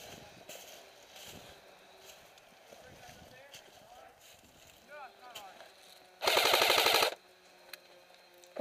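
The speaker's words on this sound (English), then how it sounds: "Contact. Taking fire." A rapid burst of airsoft gunfire rings out during a trench game near a jeep, one loud rattling volley of about a second amid quieter movement and faint talk.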